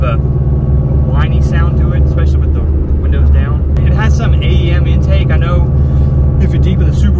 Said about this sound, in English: it's got a little bit of a whiny sound to it, especially with the windows down